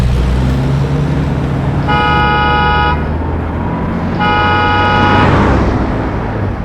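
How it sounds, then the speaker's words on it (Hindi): A car engine rumbles loudly and steadily as a sound effect in a spoken horror story, with two long horn blasts sounding over the running motor. "दोबारा गाड़ी स्टार्ट करने की कोशिश की। इस बार गाड़ी चल पड़ी।"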